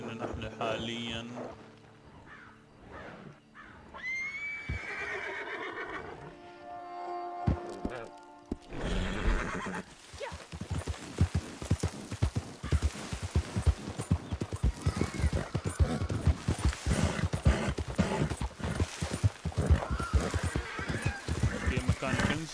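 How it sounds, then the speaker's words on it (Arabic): Horse in the Red Dead Online video game neighing near the start, then steady clip-clopping hooves through the rest of the clip, with game ambience and some talk over the top. "هذا حصان تعبان."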